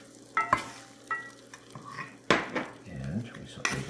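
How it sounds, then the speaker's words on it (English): Rice being sautéed with turmeric in a pan, heard as scraping spoon strokes and clinks against the metal over a low sizzle, in uneven bursts at close range, with no talk. "And we saute that just a tiny bit, just long enough to get it coated."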